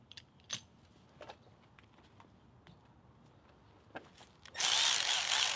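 Milwaukee cordless electric ratchet spinning up near the end, a sudden loud buzzing whir after several seconds of scattered small clicks and handling noises, with no talk.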